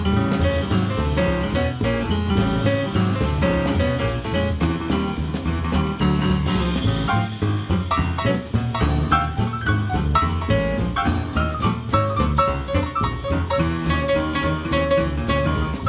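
Classic bebop-feel jazz drumming on a band recording, busy ride cymbal and snare phrasing driving continuously under dense horns and piano, loud and steady throughout.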